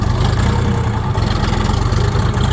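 A Kentavr walk-behind tractor engine runs loud and close, a steady low rumbling drone that holds throughout under a bit of throttle with no voices.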